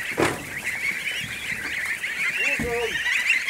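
Young goslings on a farm honk and peep in a busy chorus, with a sharper adult-sounding honk cutting in midway, close and continuous.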